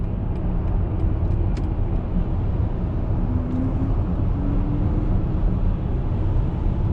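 Electric BMW iX xDrive50 accelerating, a steady low road and tire rumble with a faint rising whine, close and continuous with no talk.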